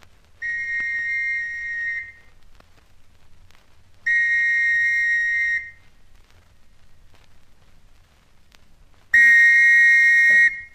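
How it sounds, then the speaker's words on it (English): Three long, shrill police whistle blasts in a radio drama, each lasting about one to two seconds with pauses between, the last one loudest and sharpest, heard alone with no talk. "Police whistle again, I think."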